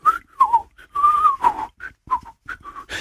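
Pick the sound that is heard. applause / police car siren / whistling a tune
whistling a tune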